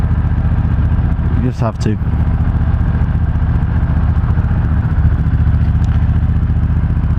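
Motorcycle engine running steadily while riding on a trip to Ypres, a constant mid-pitched drone with wind noise, a brief clatter near the start and a voice speaking over it.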